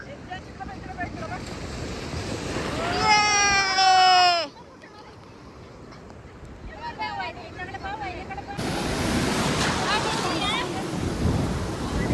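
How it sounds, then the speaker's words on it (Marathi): Big ocean waves roll and crash at a Dapoli beach with a broad, rushing roar and gusty wind on the microphone, while family members talk and call out over the surf. "लाटा बघा किती मोठ्या लाटा."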